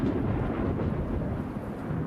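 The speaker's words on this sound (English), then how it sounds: "a violent storm beats against the ancient stones" A violent summer-night thunderstorm at a Scottish castle, heard as a continuous, loud, dense roar of rain and rumbling thunder that holds steady throughout with no voices.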